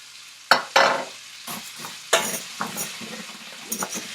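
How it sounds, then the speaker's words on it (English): Orzo toasts in melted butter in a pan as a spoon stirs it. A soft, steady sizzle runs under irregular scraping and clinking strokes, heard close with no talking. "I'm just going to stir this around in the butter for about 2 or 3 minutes"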